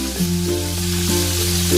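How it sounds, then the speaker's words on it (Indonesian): Fish frying in hot oil, cooked in batches until crisp and dry, gives a steady sizzle under a constant tonal hum for the whole stretch, with no talk. "Kemudian goreng ikan sampai matang dan kering."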